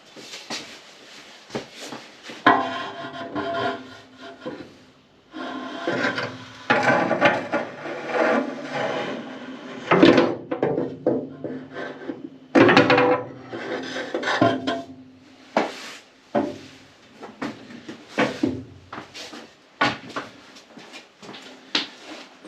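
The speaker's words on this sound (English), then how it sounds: "I'm going to go the other end with the trusty broom handle and see if I can give it a prod" A broom handle prodding a part through the tube of a beach buggy chassis during reassembly makes irregular scraping, rasping and knocking bursts, close and fairly loud, in uneven clusters with short pauses between.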